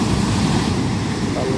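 Strong ocean waves crash and surge in a continuous loud roar, close by with wind buffeting, and no voices.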